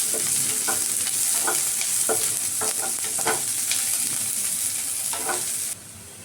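Chopped onion and cumin seeds fry in a little oil in a hot wok, a steady loud sizzle with repeated scraping stir strokes throughout, the hiss dropping abruptly near the end.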